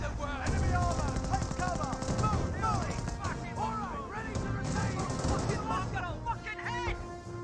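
An MG42 machine gun fires in the WWII strategy game Company of Heroes amid other battle noise, with rapid bursts and scattered shots while a caster's voice talks over the mix.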